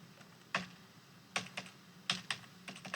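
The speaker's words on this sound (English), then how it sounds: "I can try a keyboard command." Computer keyboard keys pressed in short clustered bursts while working around a screen reader, with crisp clicks in several quick groups over a quiet background, close by and fairly faint.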